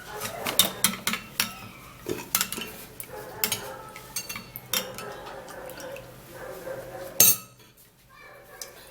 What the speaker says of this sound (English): and then I would have to stir.